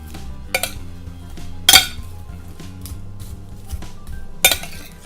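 Sliced onions drizzled with olive oil are tossed in a dish with a utensil, giving a few sharp, bright clinks against the dish amid soft scraping, close by and without talk.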